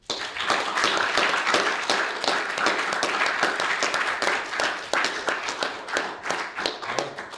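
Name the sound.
audience applause for the speakers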